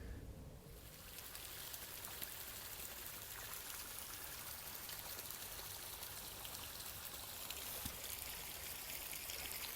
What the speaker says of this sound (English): So we're filling up the pond now.